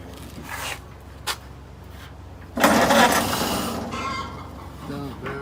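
1932 Ford engine with a temporary fuel pump cranking and briefly catching after decades idle, a short burst of loud sputtering over a low background hum, with chickens clucking nearby.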